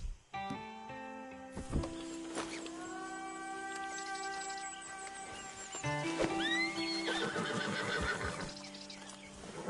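A horse in a video game whinnies loudly and clearly, a long neigh followed by a second call, with hoofbeats clopping nearby and a game soundtrack underneath.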